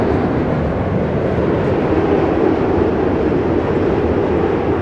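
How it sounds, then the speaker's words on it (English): A loud, continuous roar of a passing train in New York City, a dense steady rumble with rail noise and no break throughout. "soothing sounds of the loud train"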